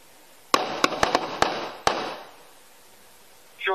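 A quick burst of about six gunshots during a police encounter, sharp cracks with echoing tails in an outdoor setting, followed by a brief tonal sound near the end.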